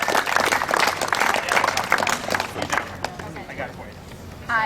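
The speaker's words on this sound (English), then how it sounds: "So let's give a big round of applause for Jessica Spear." Audience applauding speaker Jessica Spear at a post-meeting gathering, a lively round of clapping and crowd voices that fades near the end.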